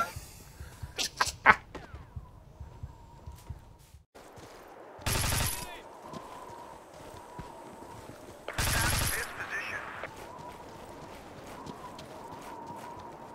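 Battlefield 2 weapon fire on the Oasis map with the Spec Ops Warfare mod: a few quick early shots, then two loud sustained bursts of automatic fire separated by quieter ambient game noise.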